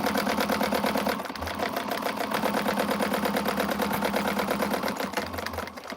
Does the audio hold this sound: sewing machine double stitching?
yes